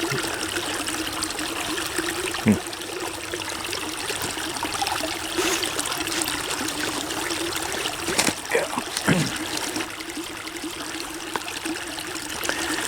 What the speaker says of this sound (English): here it sits in this little creek, watching the water flow around it